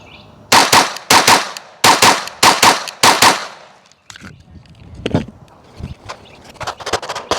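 Five close, sharp pairs of Glock pistol shots ring out in quick succession during a doubles drill, each pair a fast double crack. Quieter clicks and handling noises follow.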